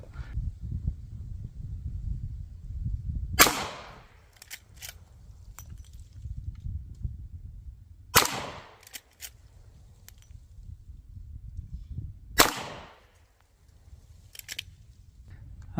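A .22LR rifle with a 24-inch barrel fires subsonic rounds, three sharp cracks spaced several seconds apart outdoors, with rustling handling noise and low wind rumble between them.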